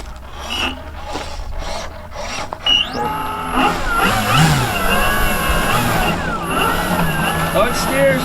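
Hangar 9 Carbon Cub 15cc RC plane taxiing for a tail wheel test, its small gas engine revving up with rising and falling pitch, near and loud after some initial handling clatter.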